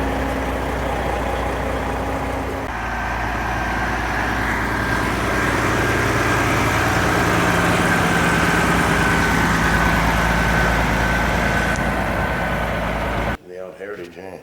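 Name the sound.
12.7 diesel engine in old Western Star truck driving off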